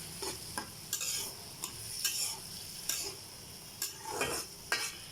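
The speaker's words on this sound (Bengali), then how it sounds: "ভালো করে ডাল দিয়ে কষিয়ে নেব মশলাটার সাথে।" Moong dal stir-fried with spices in a pan, a spoon scraping and stirring in repeated strokes over a soft continuous sizzle, close and fairly quiet with no talk.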